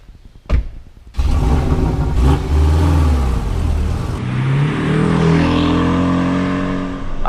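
A 2021 Porsche 718 Boxster T pulls away after a short click, its engine growling loudly and rising steadily in pitch as it accelerates through the gears, close and clear with no talk.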